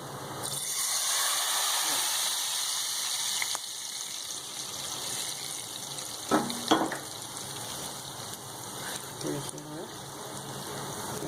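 Baghar of hot oil and fried onions poured into cooked chana dal, giving a loud, steady frying sizzle that hisses on for several seconds before settling into softer bubbling, with a few stirring clinks near the end.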